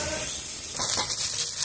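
Radish and rice fritters (mulo pithe) frying in oil in a pan, a soft steady sizzle with a brief louder spitting burst, no talking.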